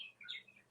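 A pet bird chirps in the background, a couple of short, faint high tweets in a quiet room with no talk.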